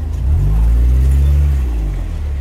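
Street traffic on a road by a Lidl store in Gyöngyös, Hungary, a car engine droning close and loud as it passes, a heavy low rumble that holds steady and then eases off.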